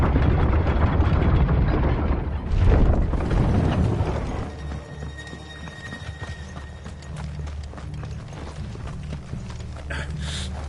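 Horse hooves clip-clop steadily in the video game Final Fantasy XVI, a loud rumbling blast at the start giving way to a continuous rhythmic trot with faint mechanical clatter.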